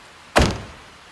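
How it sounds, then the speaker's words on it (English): A Nissan Qashqai Tekna 1.6 dCi diesel five-door SUV has its car door shut once, a single close, solid thunk that fades quickly into quiet. "if I close the door for a minute"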